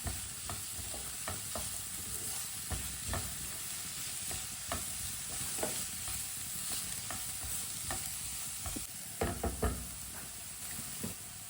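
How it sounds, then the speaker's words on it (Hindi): Potato tikki ingredients cooking in a pan, a quiet continuous sizzle broken by regular knocks and scrapes of a spoon stirring against the pan, with a few louder clatters near the end. "सब चीजों को 2 मिनट के लिए पका लेंगे।"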